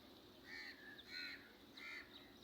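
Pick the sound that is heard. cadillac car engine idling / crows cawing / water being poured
crows cawing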